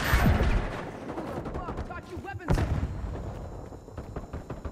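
Bursts of automatic gunfire in a Call of Duty Black Ops 6 multiplayer match, one loud crack standing out among steady shots over game sound and radio voice callouts.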